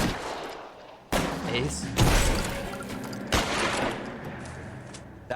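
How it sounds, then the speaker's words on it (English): Gunfire bursts from a machine gun in the video game L.A. Noire, several loud broadband volleys breaking in roughly every second or so over a noisy firefight, with a brief spoken word. "Stay in cover. He's got a machine gun."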